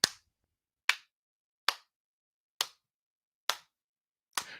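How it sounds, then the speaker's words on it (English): Six sharp single hand claps spaced evenly about a second apart in a slow, deliberate clap, close and crisp against otherwise silent surroundings. "I'm gonna give a slow clap"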